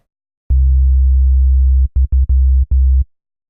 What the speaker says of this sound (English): That's a nice little sub bass right there.